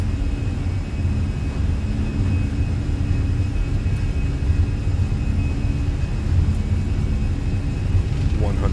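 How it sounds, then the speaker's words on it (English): Jet airliner engines spooling at takeoff power in Microsoft Flight Simulator, an Air New Zealand flight, a steady dense low roar that holds constant throughout. "Takeoff power is set."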